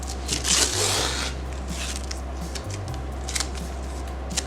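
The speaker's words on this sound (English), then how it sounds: "Let's take the tape off." Tape is peeled from a bubble wrap painting in a few short rips and crinkly tears, close and fairly quiet over a low background hum.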